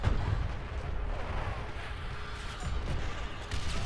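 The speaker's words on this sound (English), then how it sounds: "he got me back with his grenade" Loud, dense explosion roar from a grenade in the shooter game Call of Duty: World at War multiplayer, a sustained rumbling blast filling the whole clip with heavy low-end noise.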